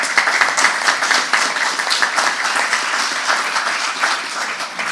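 An audience applauds at an accessibility training event, steady dense clapping from a sizable crowd that stays loud and even throughout.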